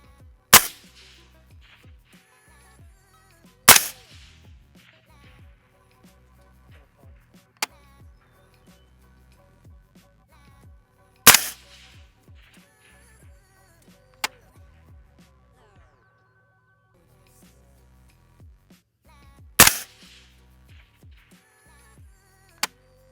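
Rifle fire at a 1,000-yard range from 5.56 and 6 ARC rifles with 18-inch barrels: four loud, sharp cracks spaced several seconds apart, each with a short echoing tail, and faint ticking and clicks in between.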